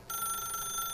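A telephone rings in The Stanley Parable video game, a single steady electronic ring tone starting abruptly and sustained, fairly faint and alone.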